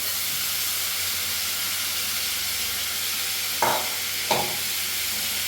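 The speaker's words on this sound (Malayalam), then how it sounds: "അപ്പം മാങ്ങ കൂടിയിട്ട് നമുക്ക് മിക്സ് ചെയ്ത്" Mango pieces being stirred into a pan of pickle mix over low heat, a steady sizzling hiss throughout with two brief scraping stirs near the end, no talking.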